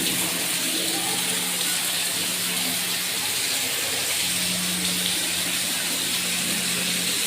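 Water gushing from a tap at full pressure in a newly plumbed house, a steady loud rushing flow with no talk over it.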